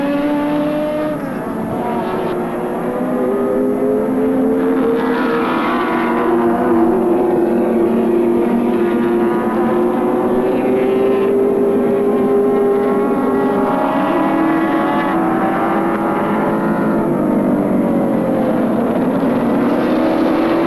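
Touring cars of the 1984 Australian Touring Car Championship race at Oran Park, with sustained loud engine roar and rising and falling revs as the field passes, continuous throughout without talk.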